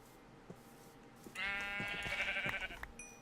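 A sheep in the video game Minecraft lets out one long, wavering bleat, moderately close and alone over faint background sound.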